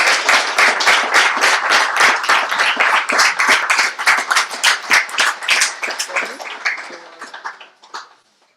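Audience applause after a student's public speaking speech: a dense burst of many hands clapping close and loud, thinning into scattered claps and fading out near the end.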